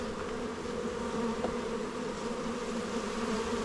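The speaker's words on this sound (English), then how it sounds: "That's a lot of bees coming out for no reason." A dense, steady hum of many bees buzzing fills the air, constant and fairly quiet, with no voices over it.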